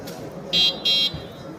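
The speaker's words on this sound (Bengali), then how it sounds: "হর্ন আছে" A kids' 24-volt electric cycle sounds its horn in two short, bright electronic beeps close by, one right after the other, with light background noise around them.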